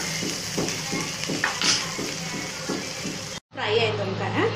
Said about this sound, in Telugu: స్టవ్ చిన్నగా వేసుకొని ఒక 2 మినిట్స్ మంచి ఆయిల్ ఫ్రై కానివ్వాలి